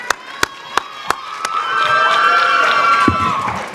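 Audience at a showcase performance cheering and applauding for a singer, a steady broad crowd roar with a few sharp claps early on, loud and close.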